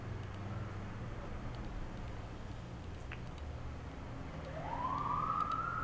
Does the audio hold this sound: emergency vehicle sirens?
yes